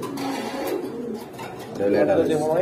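Baghdadi pigeons coo in low, rolling calls close by, repeated throughout while someone talks over them.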